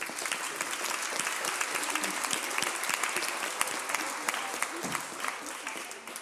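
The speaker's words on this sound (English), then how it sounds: "please give a warm round of applause to the Easter Term Debates Officer" Audience at a debating society event gives a warm round of applause for a newly appointed officer, dense and steady clapping from a sizable crowd that holds for several seconds before fading slightly.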